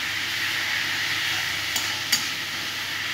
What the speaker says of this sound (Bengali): পেঁপের সাথে আমি আলুগুলোকে খুব সুন্দর করে ভাজা ভাজা করে নেব